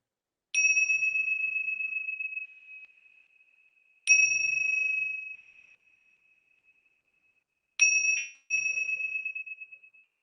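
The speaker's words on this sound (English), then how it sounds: "when the bell rings" A meditation bell struck three times, each a clear bright ring with a long, slowly fading tone, spaced a few seconds apart in otherwise silent surroundings.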